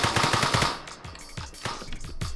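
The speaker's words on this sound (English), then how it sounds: "if I go here and start to shoot civilians" Rapid automatic gunfire from a GTA-style game built in Unreal Engine 5, as a player shoots civilians: loud close bursts of quick repeated shots with short pauses between volleys.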